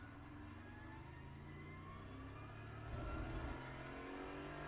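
A GT4 race car engine in the iRacing sim at Spa-Francorchamps drones loud and steady, its harmonics climbing slowly as it revs, with a brief surge of extra roar near the end; no one talks.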